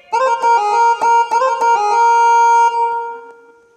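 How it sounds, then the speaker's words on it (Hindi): A synth melody from a Casio keyboard, a bright harmonic tone playing a short run of notes that ends on one long held note before fading out, loud and alone. "ये एक सिंथ का टोन है"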